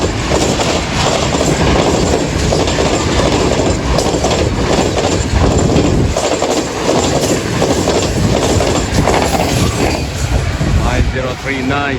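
Business Express passenger train, running hours late with worn coaches behind the engine, rolls past loud and close at night with continuous clickety-clack and a wheel squeal near the end, under some talk.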